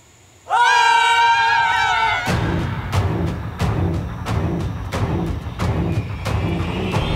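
A group of people scream together in a long, loud burst, then fall into scattered shouts and rhythmic clattering footsteps as they run off in a panic.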